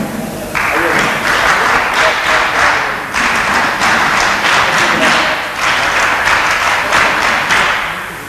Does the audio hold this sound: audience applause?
yes